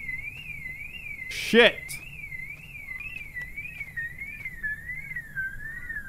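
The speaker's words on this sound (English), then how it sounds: "It set my car alarm off." A car alarm wails in the Grand Theft Alien video game, a continuous warbling siren that rises and falls for the whole clip. A short sharp burst cuts in partway through, and one person swears under it.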